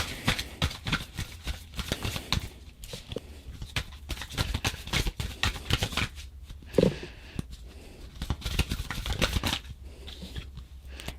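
Tarot cards are shuffled and handled near the microphone in a quick run of soft flicks and slaps, trailing into scattered quieter taps and rustles.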